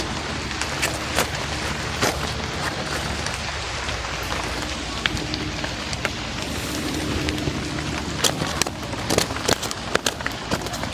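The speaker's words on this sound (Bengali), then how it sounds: "বৃষ্টি জোরে আসতেছে।" Heavy rain pours steadily outdoors during a hook-fishing outing, a dense continuous hiss with scattered sharper drop hits and crackles, close and fairly loud with no talk.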